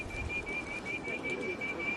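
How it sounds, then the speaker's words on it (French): A pigeon in Beijing gives a soft, steady call against a low background hum, continuous for a couple of seconds. "le pigeon."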